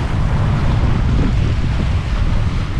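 Waves on Loch Ness, an inland loch, wash and slosh close by in a continuous low churn mixed with wind rumble on the microphone. No voices are heard.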